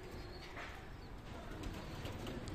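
Pigeons in a home loft coo softly and continuously beneath a dense, noisy background, the low murmuring calls overlapping with occasional faint wing flutters.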